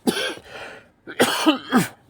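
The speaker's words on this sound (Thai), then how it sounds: "มีอาการไอกระแอมอมวิกนิดหน่อยนะครับ" A man coughs a couple of times, then clears his throat in several short, rough bursts, close and fairly loud.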